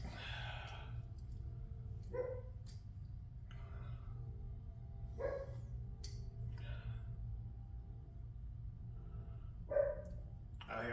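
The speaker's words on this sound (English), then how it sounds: "I hear my silly ass dog out there." A dog barks outside at a distance, a few separate barks spaced several seconds apart over a steady low hum.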